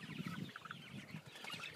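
Chickens cluck softly during evening feeding chores on a July night, giving low, continuous murmuring calls with brief higher notes, no talking over them.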